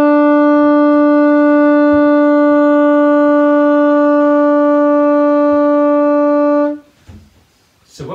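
A saxophone holds one steady, sustained note for about seven seconds during a breath warm-up, loud and even with no wavering, then cuts off into quiet breathing and faint room noise.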